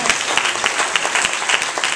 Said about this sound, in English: we just want to give the choir and the ushers a round of